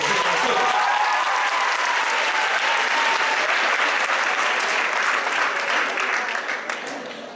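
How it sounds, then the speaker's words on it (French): An audience applauds steadily and loudly for several seconds, a dense sustained clapping that tapers off near the end, with a voice speaking under it. "on peut l'applaudir"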